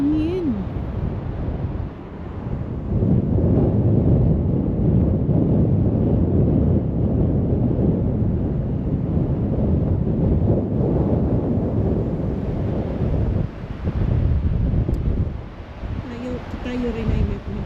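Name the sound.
sea wind at Paraparaumo Beach, New Zealand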